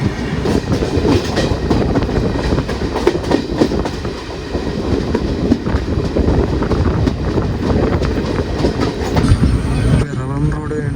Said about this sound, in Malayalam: ഈ വന്നത് വേണാട് എക്സ്പ്രസ് ആണ്, തിരുവനന്തപുരം ഷൊർണൂർ വേണാട്